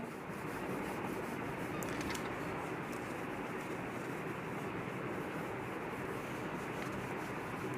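A duster or eraser rubs steadily across a classroom board to wipe off writing, a continuous close scrubbing sound that carries on without a break and with no voices.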